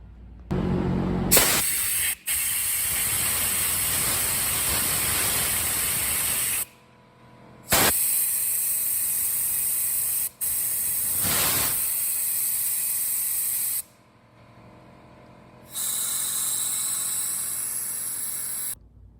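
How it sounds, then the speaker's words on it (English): Compressed air blasts through the carburetor and jets of a 2006 Honda TRX450R during a carb cleaning, coming as several loud, sustained hissing bursts of a few seconds each, separated by brief pauses. "We're gonna blow through the carburetor, we're gonna blow through all the jets."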